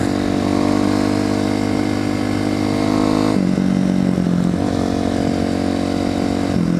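A Kawasaki KLX250 dirt bike engine drones steadily at close range while riding near gravel and sand pits, with the pitch shifting as the rider changes gears and throttle.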